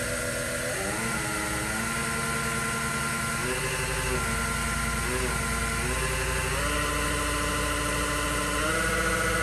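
An Omniturn GT-75 Series II CNC gang lathe runs its spindle at about 1000 RPM, giving a steady loud mechanical whine with tones that shift in steps.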